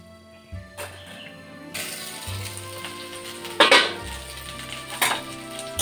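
Pointed gourd (potol) frying in oil in a covered pan over low flame, a steady soft sizzle with a few sharp metallic clinks of lid and utensils rising above it.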